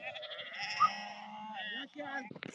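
Sheep bleating on shearing day in the Ziddi mountains, one long wavering bleat close by, followed by shorter broken calls and brief voices.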